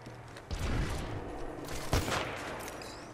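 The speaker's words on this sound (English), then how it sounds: "Oh, why are they shooting at us?" Gunfire in the battle royale game Apex Legends, with bursts of rapid shots cracking out at a moderate distance and a heavier impact or blast near the two-second mark, under a steady background rumble.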